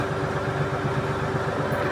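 A Solis 50 RX tractor engine idles steadily and close by, a continuous low throbbing rumble with a faint tonal hum, alone with no talk.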